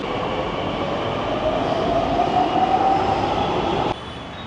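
A Pune Metro train runs with a steady, loud rolling rumble and a faint wheel squeal, heard from on board. The noise drops abruptly near the end.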